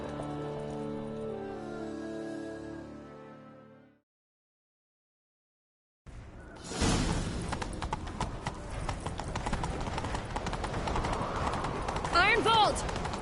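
A horse galloping in The Witcher 3: Wild Hunt, heard as a fast, steady clip-clop of hooves with a rough, rain-like wash that starts after a short silence and carries on loudly to the end, with voices or music heard before the pause.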